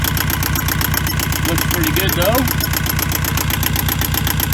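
A boat engine idles steadily after an oil change during a haul-out, a constant low rumble running close and loud throughout while a person speaks briefly over it.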